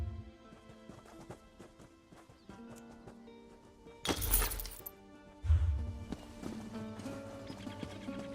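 Horse hooves clip-clop in the Elder Scrolls Online game under soft music, with a sudden loud crash or shattering burst partway through and a heavy thump after it.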